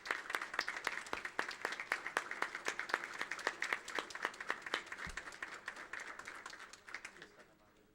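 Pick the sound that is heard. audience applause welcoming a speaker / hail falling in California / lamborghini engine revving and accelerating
audience applause welcoming a speaker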